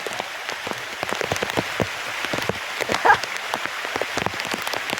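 Heavy monsoon rain patters steadily on a hard surface nearby in the Girnar hills, Junagadh, dense irregular drops hitting throughout with no voices.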